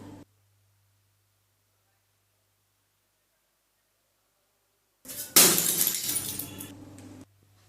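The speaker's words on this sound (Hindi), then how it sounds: "अरे, तेल का दूसरा घड़ा भी फूट गया।" A clay pot of oil breaking on a stage, a sudden loud crash and scattering clatter after several seconds of silence, ringing and fading out over about two seconds.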